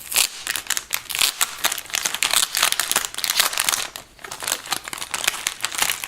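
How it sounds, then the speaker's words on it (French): A small plastic package holding a clear silicone iPhone 6s case is opened and handled: close, continuous crinkling and crackling of thin plastic with quick tearing snaps, loud and steady for about six seconds with no talking. "On va ouvrir le petit paquet."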